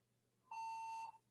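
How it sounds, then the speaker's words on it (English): A Debian virtual machine gives its startup beep, a single clean electronic tone lasting about half a second, clear and steady over a faint background hum. "when you very first start a Debian virtual machine is it's going to make a beep noise"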